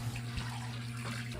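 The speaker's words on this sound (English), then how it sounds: "getting the water line up and running before it freezes again." Water runs in a steady, continuous rush from a just-thawed water line for horses in minus 23 degree cold, a close, even flow with no voices.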